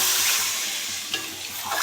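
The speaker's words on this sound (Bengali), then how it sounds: "আমি এবার আলুগুলো দিয়ে দেবো, দিয়ে ভালো করে কষে নেব।" Potatoes sizzle and hiss as they are stirred in hot spiced oil for a rohu fish curry, a continuous frying crackle with brief scraping stirs near the end.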